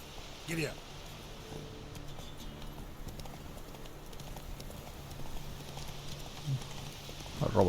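Horse hooves clip-clop in The Witcher 3 video game, a steady soft patter under faint game ambience, with a couple of sharper clicks.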